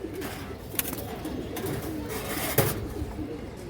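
Female Chuina pigeons coo softly in a loft among other pigeons, with a steady low murmur of cooing, wing flutters and a couple of sharper clicks, all fairly near and continuous.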